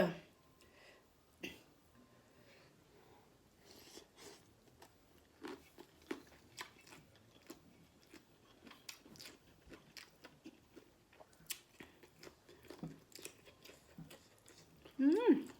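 Close, soft chewing and crunching while a big tray of som tam papaya salad is eaten, in irregular bites and wet mastication, with occasional murmurs between mouthfuls.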